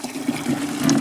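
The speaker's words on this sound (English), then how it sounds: "we're filling our buckets up" Water rushes steadily into buckets on a North Carolina collard farm, a close, continuous pouring and filling sound with a low hum running beneath it.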